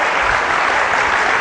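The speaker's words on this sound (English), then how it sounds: "Can we have a big round of applause for Lobita?" Steady, dense applause from a crowd, loud and continuous throughout.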